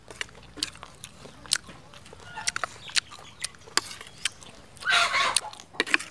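Close, crunchy bites and chewing of a spicy Thai snail salad, irregular sharp crunches scattered over a quiet background with a brief rustling burst near the end.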